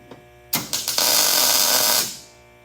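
A welder lays a short tack on an exhaust header flange for a 1952 Chevy, a close, sharp buzzing crackle lasting about a second and a half after a few quick starts, then cutting off into quiet.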